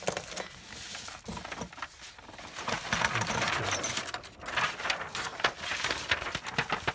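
Fine nib pen scratching across a fresh sheet of paper, a close, continuous dry scraping with bursts and strokes that keep going steadily throughout, with no talking.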